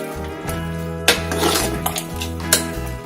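A spoon scrapes and clinks against a metal pot as an onion-free Odia mixed vegetable curry, ghanta tarkari, is stirred. Several sharp clanks stand out over a steady low hum, close by and with no talking.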